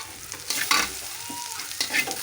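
Sago khichdi with potato and spice paste stir-fried in a pan, close sizzling with quick scraping strokes of a spatula over a couple of seconds.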